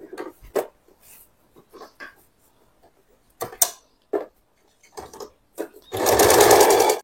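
A sewing machine runs one steady burst of stitching near the end, working a turning stitch on a blouse lining. Brief bits of speech and small handling sounds come before it.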